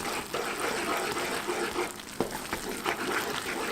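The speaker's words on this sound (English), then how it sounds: "now that we're stirring it with the heat off of it" Praline mixture stirred in a pot off the heat gives a steady, close, bubbly sizzle with soft scraping and occasional small ticks throughout.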